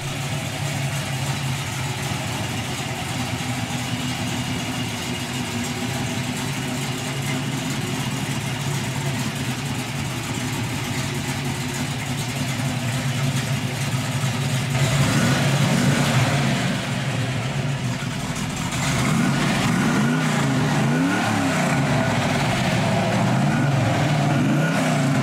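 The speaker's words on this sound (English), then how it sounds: "Now we'll listen to that 350 idle, then rev up through the RPM ranges." A 1968 Chevrolet Camaro convertible with a 350 V8 idles with a deep, steady rumble, then revs up in several rising and falling throttle blips, loud and close with no talking.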